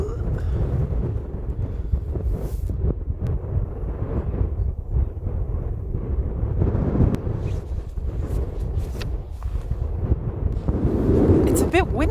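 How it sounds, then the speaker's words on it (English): Strong wind on Svalbard during the polar night buffets the microphone in heavy, low rumbling gusts that rise and fall throughout, with bursts of crackle and a louder surge near the end. "Okay, this wind, I can't continue this."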